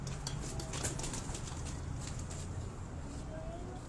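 Pigeons on a rooftop in Dhok Kala Khan, Rawalpindi, give soft low cooing under steady outdoor background noise, with faint wing or bird activity throughout.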